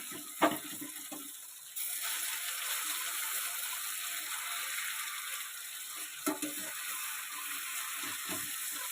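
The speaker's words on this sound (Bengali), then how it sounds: "এইবার বড়াগুলোকে আমি একটা একটা করে উল্টিয়ে সুন্দর করে ভেজে নেব।" Banana flower fritters (bora) fry in a pan, a broad hissing sizzle that swells after a moment and carries on steadily, with a few soft clicks and scrapes as they are turned, close, with no talk.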